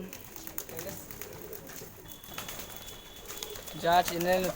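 Pigeons coo softly in the background beneath steady ambient noise, with a person speaking briefly near the end.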